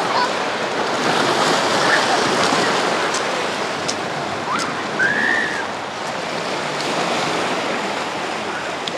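Sea surf washes steadily onto a beach at Anapa behind a stone breakwater, a continuous soft hiss and rumble of small waves with a few faint whistling tones in the background.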